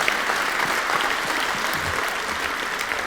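Sustained applause from the audience at a citizens' workshop meeting, many people clapping at an even density in a room, continuous and moderately loud with no talking.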